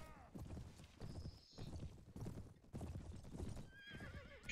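Horse hooves clip-clop in rhythm in the medieval combat game Mount & Blade, with a couple of shrill neighs and whinnies rising over the galloping, while someone talks excitedly over the action.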